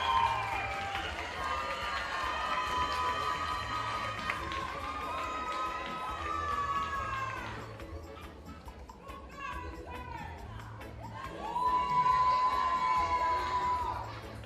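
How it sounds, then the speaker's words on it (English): A large audience at a performing arts awards ceremony cheers and shouts for the dance category winners, with children's voices prominent. The loud crowd noise swells and dips over about fifteen seconds, with a brief lull midway before it rises again. "a big round of applause once more, ladies and gentlemen, for all our dance category awardees for 2025"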